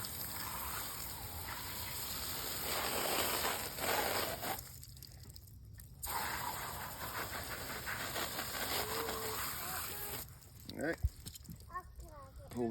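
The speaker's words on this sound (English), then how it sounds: "Right now I'm just rinsing all the fur off." Running water gushes and hisses steadily as fur is rinsed off a freshly butchered meat rabbit, with brief breaks in the flow and voices talking over it.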